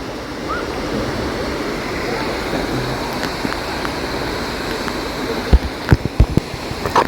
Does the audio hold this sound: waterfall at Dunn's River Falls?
yes